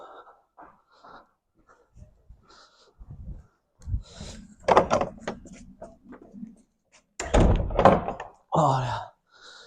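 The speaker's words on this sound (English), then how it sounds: "Just shut this door." A car door is pushed shut at a body shop after collecting a freshly painted bumper, a single solid thunk among nearby shuffling, breathing and short bursts of other noise, close to the listener.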